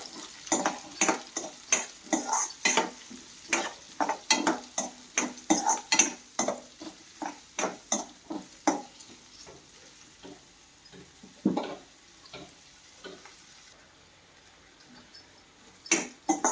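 Finely chopped large onion is stirred and sautéed in a pan, a series of distinct scraping strokes in an irregular rhythm over a faint sizzle, close by, with no speech.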